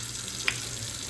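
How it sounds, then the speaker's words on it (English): Running water rinses kale and mustard greens in a kitchen sink, a steady close wash of noise with one brief splash partway through. "Rinsing them out, giving them a good bath. These is kale and mustard."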